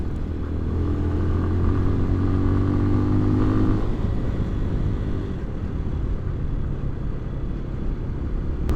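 A Lifan Xpect motorcycle with upgraded 17T front and 41T rear sprockets rides at full throttle, its engine droning loud and steady with a strained, rising tone under rushing wind.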